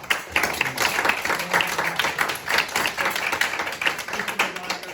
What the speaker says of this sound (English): I think we should get all the candidates in here with round of applause.